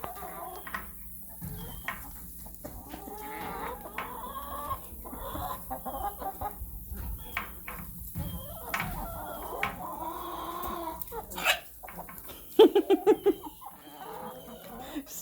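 Hen on a farm clucking after laying an egg, a run of close chicken clucks and cackles with livestock noise behind, ending in a loud burst of rapid calls.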